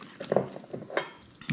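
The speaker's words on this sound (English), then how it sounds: "My bowls are very ringy today." Ceramic bowls clink and ring as they are handled during kitchen prep of a kale Caesar salad, several bright knocks and clatters with short resonant tails, one louder ring near the end.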